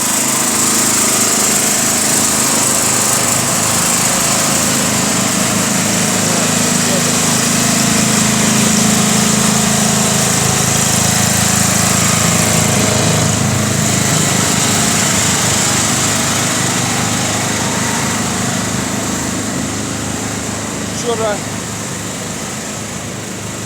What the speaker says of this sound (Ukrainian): Генератор працює, тут і тут.